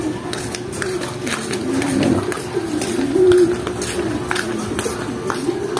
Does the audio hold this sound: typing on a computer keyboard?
no